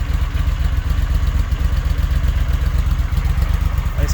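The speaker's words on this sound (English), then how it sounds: "it starts up right away and idles" A 1983 Honda CX650c motorcycle engine, already warm, idles close by with a low, loud, steady throb and a fast, even pulse, plus light mechanical clatter throughout.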